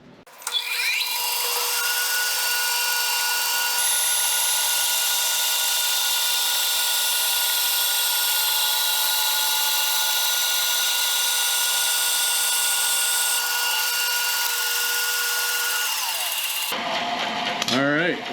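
A bandsaw fitted with a joinery blade cuts thin wood veneer, a steady loud whine and buzz with tonal hum that runs unbroken for most of the clip before cutting off near the end.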